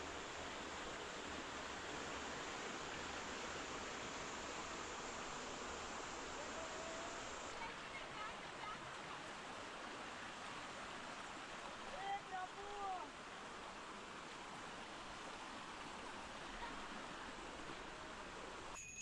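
The waterfall at Kapilash temple in Dhenkanal rushes in a steady, broad roar of falling water, fairly distant, with brief faint voices near the middle.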